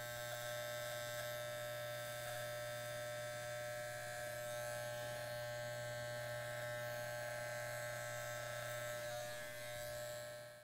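A barber's electric hair clipper runs continuously during a low fade haircut, giving a steady, close, even buzz with a constant electrical hum underneath and no talking.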